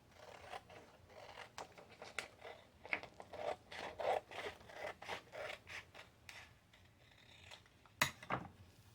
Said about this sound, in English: we're going to cut this.